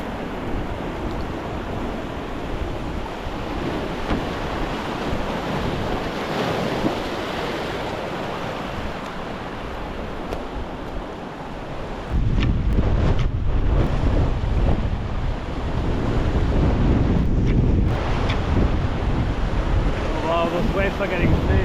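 Ocean waves breaking on a tropical island shore among rocks, a loud continuous roar and wash of surf with heavy wind buffeting the microphone, growing stronger partway through.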